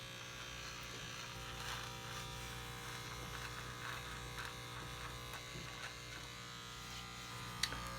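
An electric shaver runs steadily during a shave, a constant quiet motor buzz with little change in level and a faint tick near the end.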